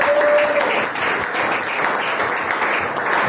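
A church service congregation applauding, a steady dense wash of many hands clapping together throughout, loud and sustained with cheers faintly mixed in.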